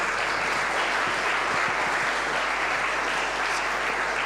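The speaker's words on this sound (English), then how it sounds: "And a big round of applause." An audience gives a loud, dense round of applause as panel guests return to the stage at an incubator demo day, sustained and even throughout with no talking.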